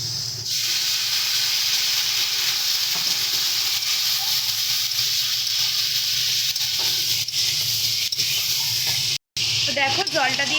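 Water is added to a pan of potatoes and spices for a Bengali drumstick curry, setting off a loud, continuous hiss and sizzle that carries on throughout with brief crackles near the end.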